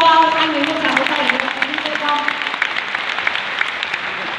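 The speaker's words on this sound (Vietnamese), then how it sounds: "Để hãy dành cho anh ấy một tràng vỗ tay." An audience claps for a guest introduced at a business success talk, a steady wash of applause that begins under a speaking voice and carries on alone.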